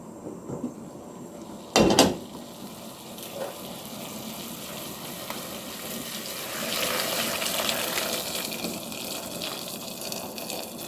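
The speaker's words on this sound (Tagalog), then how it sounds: "Itapon natin yung water. Then, palitan natin." Water from the first boil of pork is poured out of a pot, a brief clatter of the pot followed by a sustained rushing gush that swells and runs for several seconds, close and fairly loud.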